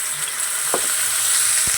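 Washed Gobindobhog rice, cashews and raisins frying in hot oil, a brief, steady, close sizzle with a couple of soft stirring clicks and no voices.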